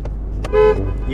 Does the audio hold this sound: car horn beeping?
yes